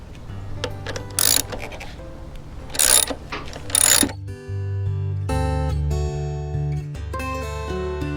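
A ratchet wrench working on a lawnmower air filter housing clicks out three short bursts of rapid ratcheting, followed by clattering metallic handling of parts at close range.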